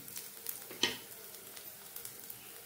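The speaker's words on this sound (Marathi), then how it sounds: "थोडा तांबूस रंगावर परतायचा, म्हणजे याला फ्लेवर खूप छान येतो लसणाचा" Garlic frying in a pan until lightly golden, a soft steady sizzle with faint crackles and one sharper tap, fairly quiet and close.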